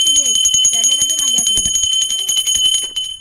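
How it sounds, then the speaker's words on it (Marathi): A hand bell rings continuously with rapid, bright strokes during a puja for a newly bought vehicle, while people talk over it. "तू घंटी वाजव ये जरा"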